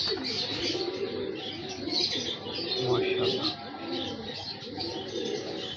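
Pigeons coo and chirp at a pigeon breeder's home, soft repeated calls close by with a brief flutter of wings, while someone speaks a short word over them.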